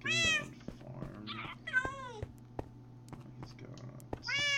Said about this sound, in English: I want all these cats.